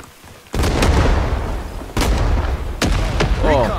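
Grenade blasts and gunfire in Rising Storm 2: Vietnam, several loud booming impacts in quick succession over a dense roar of battle, with a voice briefly audible near the end.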